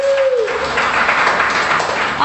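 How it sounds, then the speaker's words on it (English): Audience applause and cheering at a live breakfast television broadcast, a dense steady wash of clapping, loud and close, with voices mixed in throughout. "Everybody give Jen a big round of applause."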